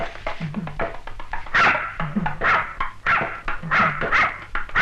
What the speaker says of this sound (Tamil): இந்த முகமூடி இருக்கிறனால தான் நாய் குலைக்குது